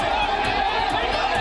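A large, agitated crowd gathered at a mosque demolition, shouting slogans as one dense, continuous roar of many voices that stays loud and steady throughout.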